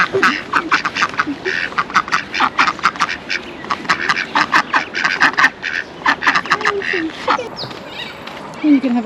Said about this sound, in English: Here's the local family of ducks.